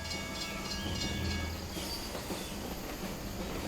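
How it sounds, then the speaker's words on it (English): A train in a multiplayer shooter game rumbles past with a steady roaring rush and faint wheel squeal, continuous and fairly close, with no one speaking. "That train almost claimed another life."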